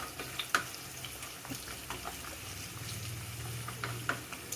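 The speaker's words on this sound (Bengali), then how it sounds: "গাজরগুলো সর্বপ্রথম ভাজছি কারণ গাজরগুলো অনেকটা ভাজতে নরম হতে সময় লাগবে" Carrots fry in a pan with a quiet, steady sizzle, faint crackles and light stirring clicks, no talking.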